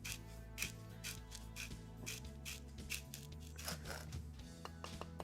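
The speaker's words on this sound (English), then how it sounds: "we're gonna ream a little bit, test a lot" A reamer grinds and scrapes inside a cork fishing rod handle in a series of close, short rasping twists with brief pauses, quiet against a low background hum.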